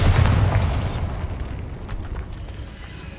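Confringo and Bombarda spell explosions in Hogwarts Legacy open with a loud, deep boom and burst that decays into rumbling debris and scattered crackles, with no talk.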